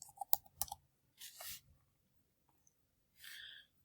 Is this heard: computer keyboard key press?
yes